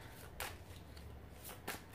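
Amethyst Love oracle cards being shuffled by hand: two quick riffling bursts over a quiet, hissy background.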